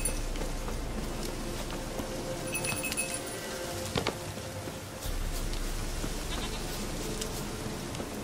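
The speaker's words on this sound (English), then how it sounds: "Fucking goat, come back! Where the hell did you go?" Goat bleating in The Witcher 3, a few short bleats mixed with faint clinking and game ambience, fairly close and moderately loud with no talk.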